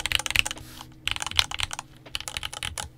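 Typing on a MatthewTech MK80 mechanical keyboard with a steel plate and gasket mount, about three years old, a quick close run of crisp clacky keystrokes in short bursts with brief pauses.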